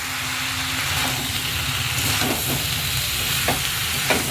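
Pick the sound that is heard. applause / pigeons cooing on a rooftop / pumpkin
pumpkin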